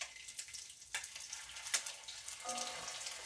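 Crab cakes made with fresh steamed crab meat fry in a hot pan, giving a faint, steady crackling sizzle with a few sharper pops and spits as the pieces settle in the oil.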